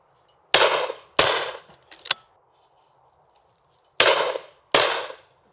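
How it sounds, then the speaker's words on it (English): Shotgun blasts at driven clay targets ring out sharply, four loud reports in two spaced pairs plus a smaller clack between them, each shot decaying quickly into quiet. "So I shot that second target right back over my head"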